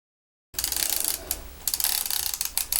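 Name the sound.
film being wound on in a Yashica Mat 124G camera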